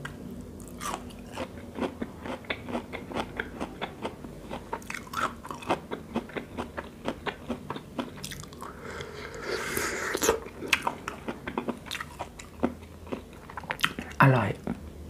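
Corn being bitten and chewed close to the microphone in an eating session, with a long run of sharp, wet crunches and bites at an uneven pace and brief quiet gaps between them.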